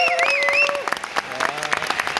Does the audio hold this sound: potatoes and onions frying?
no